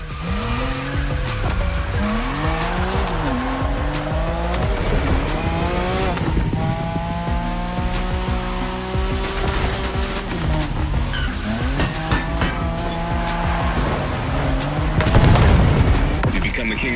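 Nissan Skyline race cars in The Crew Motor Fest racing game: continuous loud engine whine with rising and falling gear sweeps, repeated tire squeal and skidding, plus a thump near the end, with music and a faint voice underneath.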